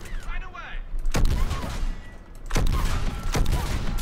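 Gunfire in the Mass Effect 3 video game aimed at a turret, with three sharp shots spaced about a second apart over a steady background of game noise.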